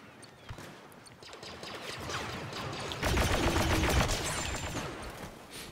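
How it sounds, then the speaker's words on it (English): Automated turrets in a Star Wars Battlefront 2 battle fire at droids in a dense, continuous fusillade of rapid gunfire that swells louder midway and stays steady without pause. "Turrets still picking off droids that I can't see yet."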